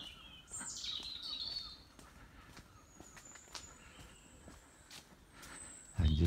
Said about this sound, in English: And listening to the bird song.